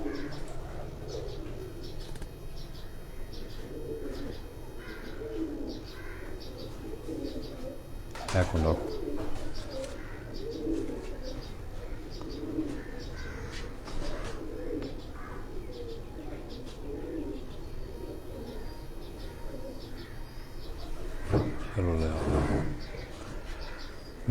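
Pigeons coo on a rooftop loft in Jalalpur Bhattian, soft repeated coos scattered through the clip with occasional chirps and wing flutters, under someone talking nearby.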